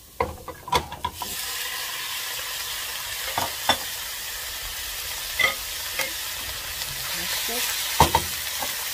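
Beef for goulash sizzling in a hot pan, with a continuous frying hiss and intermittent clicks and scrapes of stirring, close and fairly loud.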